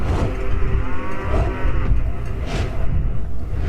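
A buffalo, Yamraj's mount in an animated Hindi myth comedy, lets out deep, drawn-out moos in loud repeated bellows over a continuous low rumble.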